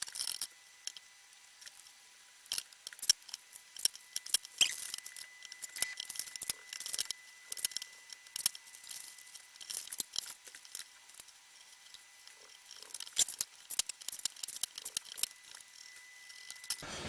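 Scissors cut out paper pattern pieces for a hood, giving close, irregular snips and crisp rustles of paper over about seventeen seconds, with no voices.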